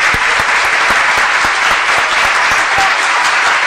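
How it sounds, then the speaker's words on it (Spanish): An audience gives loud, sustained applause at a live show, dense clapping that stays steady the whole time, with a few sharp rhythmic low thumps running through it. "les voy a dar un aplauso a todos ustedes"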